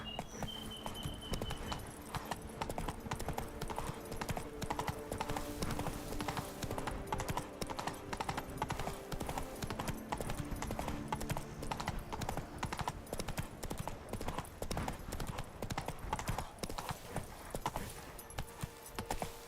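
Continuous clip-clop hooves of a horse named Roach in The Witcher 3, a steady rhythmic trot or gallop running the whole time at moderate volume with game ambience.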